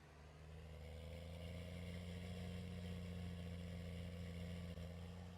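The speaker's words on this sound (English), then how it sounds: "this tractor sounds quite nice" A tractor engine in the video game Farming Simulator 19 drones steadily at a low, even idle-like hum, faint and continuous throughout, with no speech over it.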